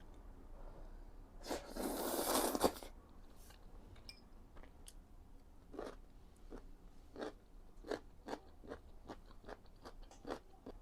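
Crunchy chonggak kimchi, young radish kimchi just starting to ferment, chewed close up: a loud burst of crunching followed by a string of sharp, evenly spaced crisp bites, quiet between them and no talking.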